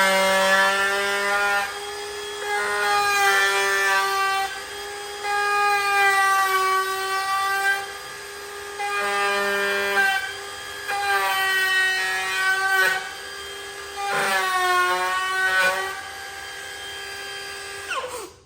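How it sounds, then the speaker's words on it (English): A flush cut router with a top bearing trims a Kydex sheath, whining loudly at a high steady pitch in several passes, with the tone shifting under load and short dips between cuts. "This is just a flush cut router with a bearing on top."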